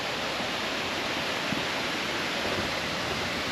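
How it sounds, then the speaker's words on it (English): A waterfall along a rainforest walk, a steady broadband rushing roar that stays even and unbroken throughout, with no voices. "there's actually waterfalls here"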